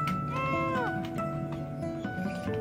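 A cartoonish cat meows a few times in a video game, short bright mews over a busy background of game sounds, fairly quiet and close.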